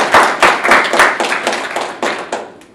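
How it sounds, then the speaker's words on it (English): A small group of people at a property show clap together, with loud, close, irregular claps that taper off over a few seconds. "Do you want to clap?"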